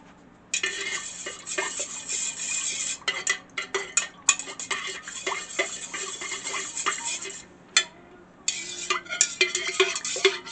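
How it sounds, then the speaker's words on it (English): A stirring wand scrapes and clinks around a container of melted soy wax for candle making, in uneven bursts of close scraping with short pauses and no talk. "we're just going to give that a stir with our wand here"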